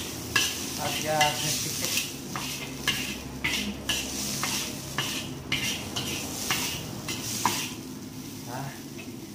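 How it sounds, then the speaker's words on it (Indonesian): Squid stir-frying in a pan for seafood fried rice, with steady sizzling and repeated scrapes and clinks of a utensil against the pan, under brief talk. "cumi-cumi nggak bisa lama ditumis karena jadi karet."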